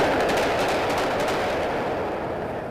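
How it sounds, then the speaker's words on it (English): Rapid gunfire in a volley near Times Square in New York City, a dense, sustained burst of overlapping shots echoing loudly without a break, with no voices heard. "A volley of gunshots sent crowds scrambling in New York City today"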